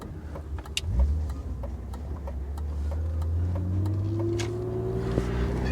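A BMW E36 M3 drives past a new neighbourhood at sunset, its engine humming steadily near the microphone and rising in pitch as it accelerates through the gears.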